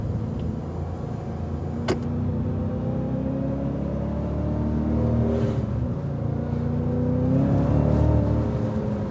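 A Cadillac CTS-V on a race track gives a steady, muffled engine drone heard from inside the car, its pitch rising gradually as the throttle is fed in, with a single sharp click early on.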